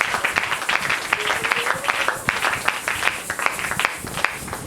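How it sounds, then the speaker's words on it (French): A church congregation at a Sunday service claps steadily for Jesus, many hands beating in a brisk, uneven patter that fills the room, with faint voices mixed in. "Est-ce que tu peux acclamer pour le Seigneur Jésus?"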